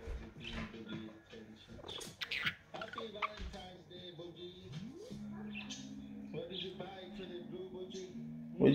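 A blue pet budgie chirps and chatters in short, bright bursts close by, scattered among people talking over it.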